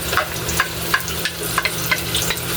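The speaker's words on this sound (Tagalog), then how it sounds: "igisa ko na yung sibuyas" Chopped onion sautéing in a pan for a seafood shell dish, with a steady sizzle under light, irregular scrapes and clicks of a utensil stirring, close and alone without talk.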